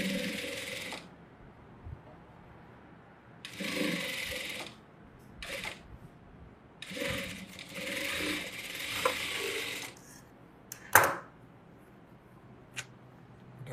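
Sewing machine stitching blouse fabric in short bursts of rapid mechanical whirring separated by pauses, with a few sharp clicks, fairly close and with no talking.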